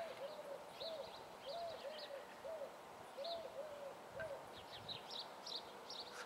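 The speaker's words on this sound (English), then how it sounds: "That call you hear is that dove right there that I have right now." Dove cooing outdoors, a repeated series of soft, rhythmic coos with some fainter higher bird calls mixed in over a steady background hum.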